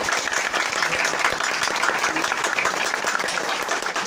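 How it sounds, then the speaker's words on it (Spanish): An audience at a drag contest applauds a contestant, a dense, steady wash of many hands clapping throughout, close and loud with no pauses. "quiero escuchar palmas nada más, ¿ok? Nada de gritos"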